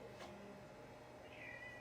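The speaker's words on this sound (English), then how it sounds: "I hear a cat." Cat meowing inside a woodworking shop, with a short faint meow followed by a longer drawn-out cry, heard at a distance at low volume.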